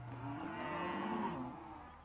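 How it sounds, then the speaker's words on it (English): Cattle moo at a livestock market where farmers are selling off cows during a severe drought, with overlapping low bellowing calls throughout, moderately close and steady. "Farmers are bringing their cows to market"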